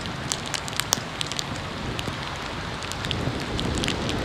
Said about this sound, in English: the rain sounds are so satisfying. Is there a pitter-patter on the microphone then?